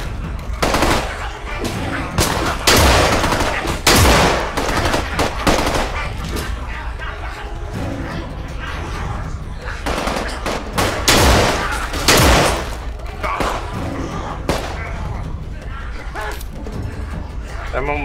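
Dense, loud automatic gunfire from the zombie survival game Contagion rattles almost continuously in rapid bursts, punctuated by sharper single shots, with a player talking over the din.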